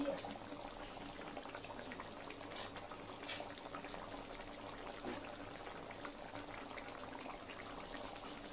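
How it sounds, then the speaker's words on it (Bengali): Fish curry gravy with katla pieces bubbling in a pan, a steady soft simmering and bubbling texture that runs evenly and fairly close throughout, with no talk. "ঝোলটা আমার অনেকটাই ফুটে উঠেছে"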